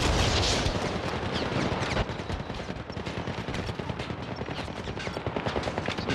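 Rapid automatic gunfire from the video game Syndicate, a dense, continuous barrage of close, loud shots with overlapping bursts running throughout, no talk.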